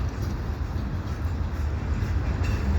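CP mixed freight train passing at Dorval on a mild winter day, a loud, close, continuous low rumble and rattle of rolling railcars.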